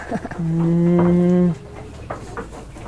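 A Jawa Randu goat on a farm gives one loud, sustained bleat of about a second, close to the microphone, followed by quieter barn noise.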